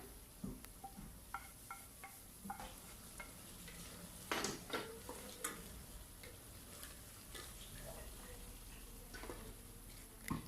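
Mutton curry with garam masala is stirred in a pan, soft irregular scrapes and taps of a spoon against the metal over a faint low sizzle, close and quiet throughout.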